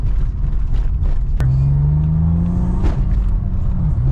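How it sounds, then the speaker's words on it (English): A six-speed Acura Type S accelerating hard in second gear, its loud, close engine note rising steadily in pitch, dipping briefly, then climbing again under road rumble. "let's try second gear pull"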